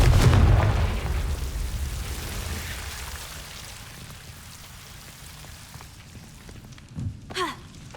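A Confringo fire spell explodes in the video game Hogwarts Legacy, a loud burst at the start that decays into a long fading crackling rumble, followed by a couple of brief whooshing effects near the end.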